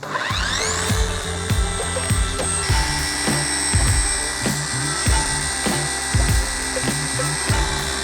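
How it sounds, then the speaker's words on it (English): A forced gear-driven machine polisher runs on car paint with a loud, steady high-pitched whine and rhythmic pulsing thumps as the pad works the panel. A brief spin-up starts it, and no one talks. "this is what's called a forced gear-driven machine polisher"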